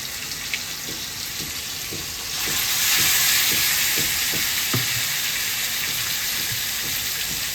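Marinated tandoori chicken placed in a pan over a low gas flame, making a steady hiss that swells into a louder wash of sizzle partway through, with faint rhythmic taps and no talking.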